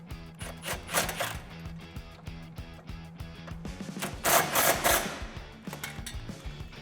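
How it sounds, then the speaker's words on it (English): A 13mm socket on a ratchet clicks in quick repeated runs while tightening a bolt on a Magnaflow axle-back exhaust on a 2015-2019 Challenger 3.6L, close and crisp, with a louder burst of clicking near the end and no talking. "grab your 13 socket, and we're going to tighten down that one bolt"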